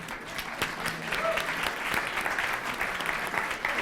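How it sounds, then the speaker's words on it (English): Audience at a live tech event clapping, a sustained mix of many hands applauding that swells slightly and stays steady to the end, with a few faint voices scattered within. "So let's give that an applaud."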